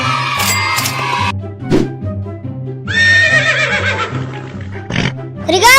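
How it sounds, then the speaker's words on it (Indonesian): A horse neighing in a loud, shaky whinny that rises and then wavers down, heard close up in short bursts over a backing music track. "Kuda."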